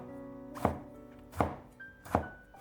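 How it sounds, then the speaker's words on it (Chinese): A knife slices a tomato into thin slices, giving three evenly spaced, soft thuds on a cutting board with quiet gaps between them. "再给它切成薄片"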